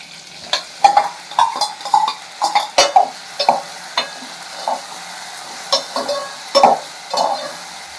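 Tomatoes and chillies fry in a pan while a utensil stirs them, giving a steady sizzle broken by repeated close scraping and clinking strokes at an uneven rhythm, with no one speaking.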